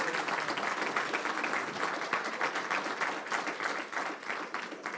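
A congregation applauds during a church service, dense sustained clapping from many hands at a steady, fairly loud level throughout, with no talk over it.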